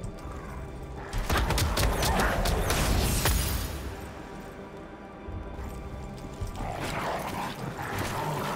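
A pack of dogs in the Lost Ark video game barks and yips in a rapid, overlapping burst that tapers off and then picks up again, loud and close.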